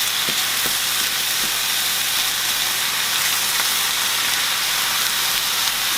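Venison, ramps and garlic sizzle in a hot pan, a loud, continuous close-up frying hiss with a few faint knocks early on.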